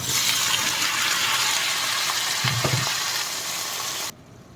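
Vegetables hit a hot pan and burst into loud close frying sizzle, a steady crackling hiss with a short thump at the drop, ending abruptly into quiet.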